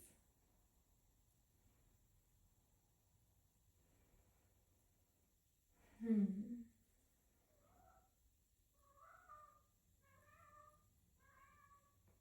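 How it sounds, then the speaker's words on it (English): A pet cat at home lets out one louder meow followed by a run of softer, repeated calls, fairly quiet and close in an otherwise still room. "That's my cat."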